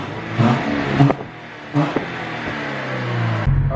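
A modified car with new aftermarket exhaust parts revs its engine in several short, loud blips with pauses between them, close to the microphone, ending in a steady idle rumble.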